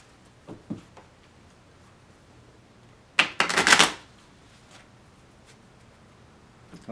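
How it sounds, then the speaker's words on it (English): An old deck of playing cards is shuffled close by in one quick burst of dense, crisp riffling lasting under a second, preceded and followed by a few soft card taps in an otherwise quiet room. "I've just got a deck of cards here, an old deck of cards. And Liz, why don't you shuffle that?"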